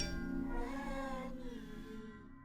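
A plush toy cat in the horror game The Baby in Yellow gives a drawn-out, wavering meow, loud and close, tapering off over about two seconds with no talking.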